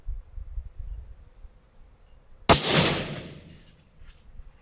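A LaRue Tactical Siete bolt-action rifle fires a single loud, sharp shot outdoors, and its booming echo rolls away over a few seconds. Faint insect chirps sound beforehand.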